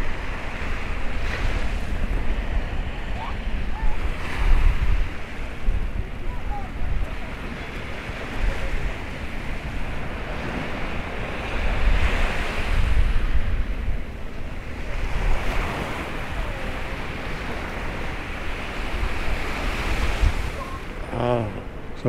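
Waves washing onto the small beach at the Paphos seafront and harbour in June, a steady surf wash rising and falling, with wind buffeting the microphone and faint voices in the background.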